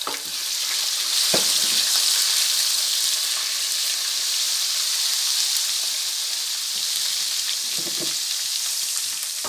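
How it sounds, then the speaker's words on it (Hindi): A steady, loud sizzle of garlic ginger paste frying in hot oil, with a couple of brief scraping stirs. "और ये लहसुन अदरक का पेस्ट डालने लगे हैं।"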